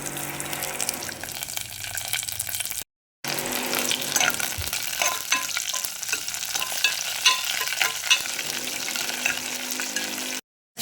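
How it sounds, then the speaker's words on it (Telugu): Mustard seeds and cumin crackle and sizzle steadily in hot oil, a close, busy popping hiss with stirring, broken by two brief silent gaps. "ఆయిల్ వేడెక్కిన తర్వాత ఆవాలు, జీలకర్ర వేద్దాం."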